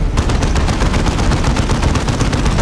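Sustained automatic turret fire from Dawn of War 2 Retribution, loud, dense rapid shots running steadily throughout with no talk.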